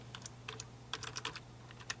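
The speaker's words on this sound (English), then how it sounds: "let's type it in again" Keys clatter on a Dell computer keyboard in quick bursts of soft clicks with short pauses between, close but quiet over a steady low hum.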